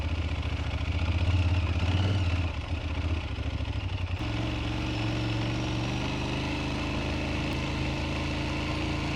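Aprilia Tuareg 660 motorcycle engine running steadily at low, even revs on a muddy off-road detour, a close, continuous drone with light clatter and a slight drop in pitch partway through.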